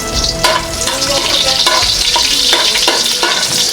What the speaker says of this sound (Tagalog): syempre kailangan kong haluin ito